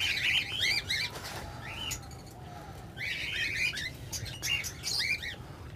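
Red doves and pied doves in an aviary, with repeated bursts of wing flapping alongside chirps and tweets from small birds such as goldfinches, fairly close and steady over a low background hum.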